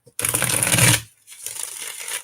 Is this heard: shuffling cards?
yes